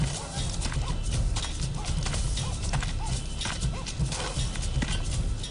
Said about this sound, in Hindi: ये आला नस्ल का घोड़ा तुम्हें और अनाई को हदिया करता हूँ।